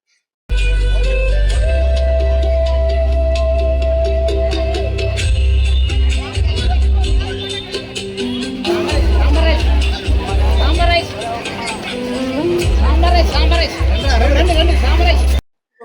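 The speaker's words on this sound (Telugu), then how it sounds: "ఇప్పుడు జనం బాగా పెరిగారు." Dense crowd noise from a large gathering on the road at Dayal Nagar during the Simhachala Giri Pradakshina, a constant babble of many voices with loud low rumble and close talk running throughout.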